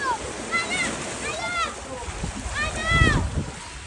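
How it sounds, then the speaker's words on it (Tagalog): Rough typhoon floodwater surges and splashes against and over a wall in Manila amid steady roaring wash, while people talk excitedly over it. "Grabe nga alon yan."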